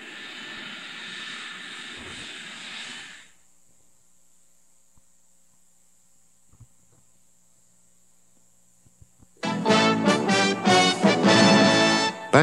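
An aircraft carrying the Shah of Iran on his last flight to Egypt gives a steady, loud engine roar for about three seconds before cutting off, then near silence, then loud music.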